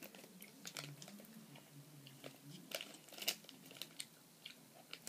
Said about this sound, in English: We are just chewing gum.